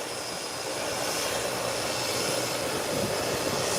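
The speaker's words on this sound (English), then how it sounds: "This private jet heading down the runway for takeoff." A private jet accelerates down the runway for takeoff, its jet engines producing a steady, loud, broadband roar that builds slightly and holds throughout, with no voices.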